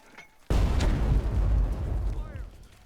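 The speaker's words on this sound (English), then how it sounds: "We'll throw some mortar fire" Mortar rounds exploding in the war strategy game Burden of Command: a loud sudden blast followed by a sustained low rumbling roll of impacts that slowly fades.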